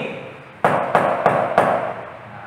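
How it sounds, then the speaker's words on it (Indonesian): Four evenly spaced knocks on a classroom whiteboard, sharp and close, fade between strikes with no talking. "lalu kalian ketok-ketok papan tulis sebelah sini"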